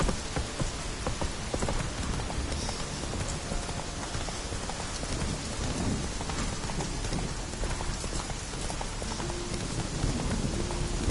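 The horse Roach galloping in The Witcher 3 video game, a steady rapid clatter of hooves under a dense rain-like wash of ambient noise, continuous and fairly loud throughout.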